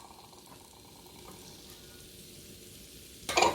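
Garlic, ginger, carrots and bean sprouts for Mauritian fried noodles hit a hot pan, with a faint hiss at first and then a sudden loud burst of sizzling at the end, close by and with no talking.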